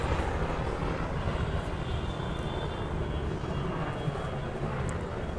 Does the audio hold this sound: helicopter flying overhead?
yes